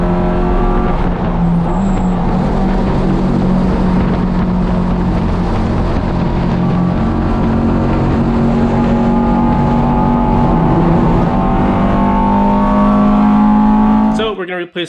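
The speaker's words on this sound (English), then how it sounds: "when the right-hand side of the car is loaded, I get a nasty vibration" A Honda Civic EG track car drives hard with a faulty axle, its engine droning loudly and steadily and rising in pitch, with a harsh vibrating buzz throughout and an abrupt cutoff at the end.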